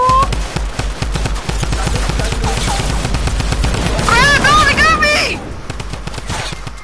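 Gunfire in a shooter video game: rapid bursts of automatic shots and rattling fire, loud and near, with excited voices and shouts over the shooting.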